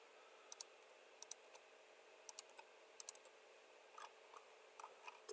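A computer mouse clicks repeatedly with the Control key held to multi-select faces in Fusion 360 CAD software. The clicks are crisp, close and fairly quiet, landing in quick pairs and small clusters over a faint background hiss with no talking.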